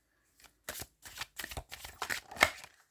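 A deck of tarot cards is shuffled by hand up close, producing a quick series of about seven crisp riffling bursts separated by short pauses in an otherwise quiet room.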